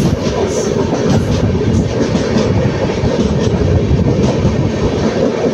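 Loud, steady rumble of a moving passenger train on the Erode to Bangalore line, heard from inside with continuous wheel and carriage roar and faint rattling, no voices.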